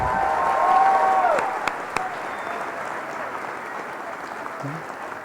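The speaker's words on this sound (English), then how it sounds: "Let's give our student speakers one more round of applause." Audience applause for student speakers at a 2023 virtual school graduation ceremony: a loud round of clapping that gradually fades, with a few sharp claps and brief cheering near the start.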